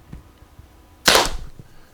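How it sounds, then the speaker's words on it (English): A single sharp pop from a CO2-powered Sabre S7 pepperball launcher, mid-distance and loud against a quiet outdoor background, with a brief hissing tail. "So we're going to go to fire."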